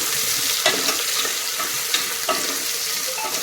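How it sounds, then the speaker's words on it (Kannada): Overnight-soaked green peas fry on a slow flame for Uttara Karnataka birenji rice, giving a continuous close sizzle broken by periodic scraping stirs of the spoon, with no voices. "ಇದು ಸ್ಲೋ ಉರಿಯಲ್ಲಿ ಫ್ರೈ ಆಗಲಿ ಈಗ ಚೆನ್ನಾಗಿ"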